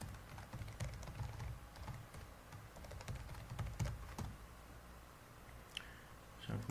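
Steady typing on a computer keyboard while entering an issue in a SharePoint reporting tool, irregular bursts of close, soft key clicks with short pauses, no talking.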